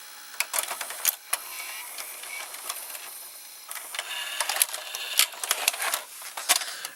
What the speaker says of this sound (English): Now let's eject the cassette.